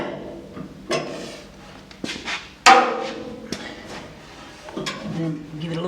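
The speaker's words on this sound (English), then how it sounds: "Lightly wrench it in." A wrench tightens a part on a GT3 road race chassis, making several sharp metallic clanks and knocks at irregular intervals, close by, with a person speaking between them.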